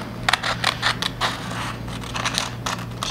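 Scissors cut slowly along a traced circle, likely in paper, giving a run of crisp snipping crunches with small pauses between them, close and fairly loud, and no one speaking.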